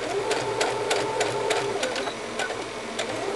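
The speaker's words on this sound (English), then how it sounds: "And then you sew, and I sew it from the inside because you're going to flip these over." Close-up sewing machine stitching a martingale dog collar, a fast, steady rhythmic chatter of the needle that runs continuously with no talk over it.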